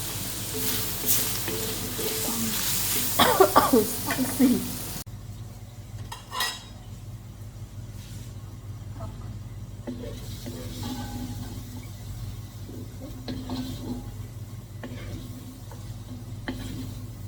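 Pork is stir-fried in a pan, with loud clattering spatula scrapes and stirring at first, then a quieter steady sizzle broken by occasional taps and scrapes of utensils on the pan.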